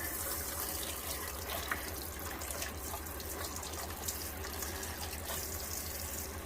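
Hot water runs steadily from a tap into a sink in a camper van, a constant close splashing stream over a low pump-like hum, with no talking.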